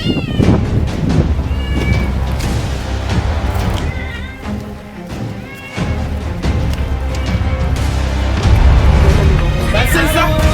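A cat meows and yowls repeatedly and loudly, its drawn-out wails mixed with people talking and commotion close by.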